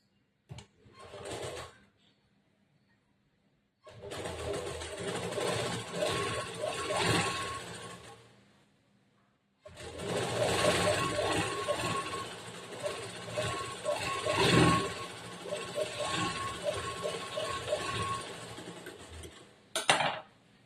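Sewing machine stitching a fold into blouse fabric during princess-cut blouse tailoring, running in two long bursts of steady mechanical whirring with a short burst at the start and a sharp tap at the end.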